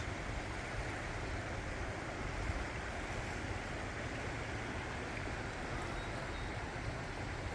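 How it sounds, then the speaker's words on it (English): Steady rushing water flows continuously, a broad even wash with no voices. "I think this is the Clackamas River."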